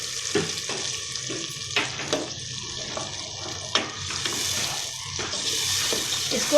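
Browned onions fry with ginger-garlic paste and green chili paste in a pan, a close continuous sizzle broken by sharp stirring scrapes and spatula knocks.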